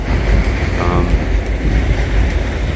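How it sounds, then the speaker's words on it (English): High wind and rain storm sweeping through New York City, a loud, steady broadband roar of gusting wind and falling rain with no break and no voices. "it's been raining the whole morning, ever since last night"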